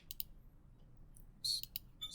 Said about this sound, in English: So I'll just go to my calculator and type that in.